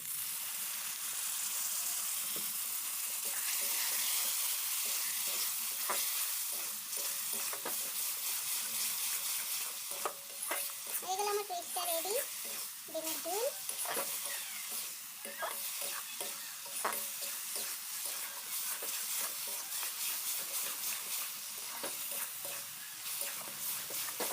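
Spice masala frying in a pan for an egg curry, with water added, giving a steady loud sizzle and hiss with stirring scrapes throughout.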